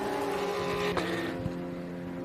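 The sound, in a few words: Thunder silhouette race car with big V8 engine passing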